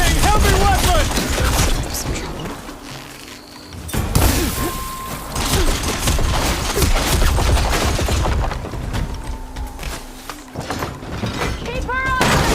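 Heavy weapons fire and booming impacts in Horizon Forbidden West combat, loud bursts and thuds mixed with shouted voices and a gap of near silence midway.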